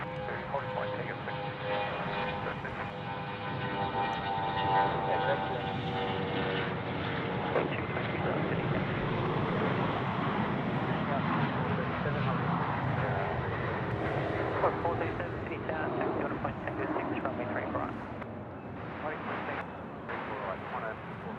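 Boeing 717 at Sydney Airport, a broad, sustained engine roar rumbling steadily for the whole stretch from a moderate distance, with a voice talking faintly beneath it.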